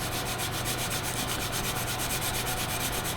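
A cheap Chiltern Studios colored pencil scratches steadily across paper in a rough, uneven rubbing rasp that runs continuously and close for the whole stretch, with no voices.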